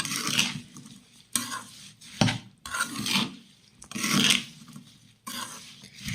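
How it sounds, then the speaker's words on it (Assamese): A spoon stirs a thick pickle mixture of garlic, ginger, chili, fenugreek and ajwain powder, making steady, rhythmic scraping strokes. About six loud, close sweeps repeat one after another with no voices. "পুৰা মিক্স কৰি লওঁ মছলাটো"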